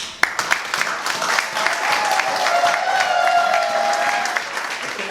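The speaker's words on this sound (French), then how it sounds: "On applaudit." Wedding guests burst into warm applause at a civil ceremony before the mayor, a full, sustained round of many hands clapping, with a few voices rising faintly through it.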